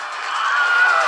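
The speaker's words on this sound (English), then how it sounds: "The Wilhelm scream." The Wilhelm scream stock sound effect plays in an animated Hulk versus Doomsday battle. It is one sustained, moderately loud yell lasting about a second.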